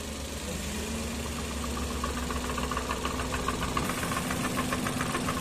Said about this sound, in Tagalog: parang maglagutok sa makina tapos palyado saka tagiktik yung andar